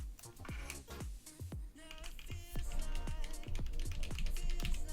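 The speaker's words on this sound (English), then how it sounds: "Let's go ahead and pull the keycap off real quick and see what it looks like." A SteelSeries Apex Pro keyboard, a mix of Omnipoint and Gateron switches, gives a run of sharp plastic clicks and taps as a keycap is worked loose and pulled off, with close rattling handling noise throughout.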